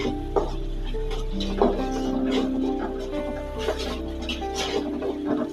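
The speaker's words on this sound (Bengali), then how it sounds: "সুন্দরভাবে নেড়ে নিতে হবে মিক্স করে নিতে হবে" Chicken gizzard and liver curry being stirred in a pot, with soft scraping and clinks of the spoon against metal and a faint sizzle beneath, close by, while someone talks over it.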